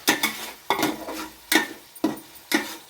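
Onion and pepper paste with mint and coriander being stirred in a pot for home-style chicken biryani: a spoon scrapes and knocks against the pot in about five rhythmic, close strokes, each a short clatter with faint sizzling between.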